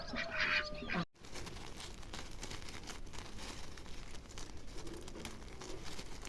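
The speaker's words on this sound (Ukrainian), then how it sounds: "Ще один десь крякає." A duck quacks somewhere off at a distance in an outdoor garden in August, faint honks over steady rustling and ambient noise.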